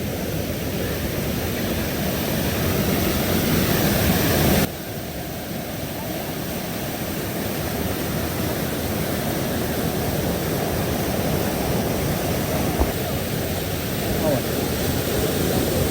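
A rushing mountain stream on a hillside climb, heard as a loud, steady wash of broadband water noise close by, unbroken for the whole stretch with only a brief dip in level early on.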